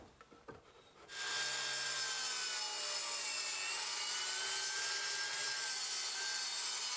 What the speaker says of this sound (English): I cut them to length at the miter saw